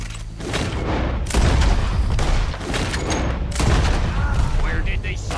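Dense gunfire from Red Dead Redemption 2 rattles almost continuously, rapid overlapping shots and booms swelling in waves, with game voices talking through the barrage.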